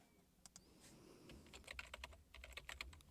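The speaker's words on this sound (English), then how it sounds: "You need to type in your username and password" Close, quiet computer keyboard typing as a username and password are entered, with irregular clusters of crisp key clicks alone in a soft room background.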